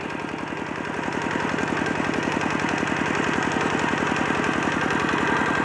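A vehicle engine, just shifted into gear, runs close by with a steady, loud chugging, its low pulses beating in an even rhythm throughout with no voices.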